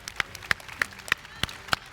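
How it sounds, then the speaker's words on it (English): Scattered hand claps from an audience at a Final Fantasy XVI music panel during a pre-launch celebration event, about half a dozen sharp, distinct claps spaced fairly evenly over a quiet room. "Can we give a round of applause to this man for what he did on that?"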